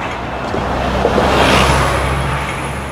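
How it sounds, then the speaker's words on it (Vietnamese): Buses and traffic on a busy Hong Kong street, a steady low engine rumble with a vehicle swelling past at moderate distance, no talking. "có xe buýt đó"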